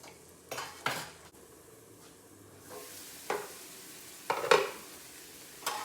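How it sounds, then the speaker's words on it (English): Onions cook in meat drippings for a patty melt, giving a faint low sizzle broken by a few sharp clanks of a utensil and a lid being set on the pan. "Now I am going to trap the heat in here and cook them for about 5 minutes covered."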